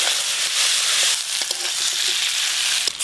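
Fried tengra river fish going into mustard gravy in a village-style pan, producing a bright continuous sizzling hiss with a few light clinks and scrapes near the end.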